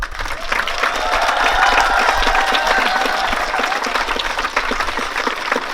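A loud, sustained roar of cheering and applause fills a hall at a regional school choir festival, raised for the choir conductor of two combined school choirs, steady from start to finish without a break.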